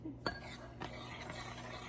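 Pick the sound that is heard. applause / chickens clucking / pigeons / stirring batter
stirring batter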